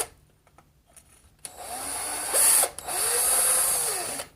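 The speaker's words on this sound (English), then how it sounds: "Just checking my work so I don't drill all the way through." A power drill boring a pilot hole in wood whines briefly, pauses, then spins up in two longer high-pitched bursts, close and loud, with slight speed changes as it bites.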